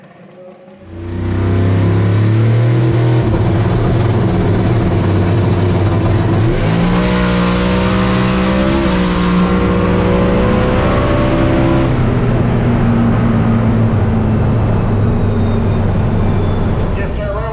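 Drag race car making a pass down the track, engine roaring loud and close through rising gear changes, holding a sustained high drone before easing off toward the end.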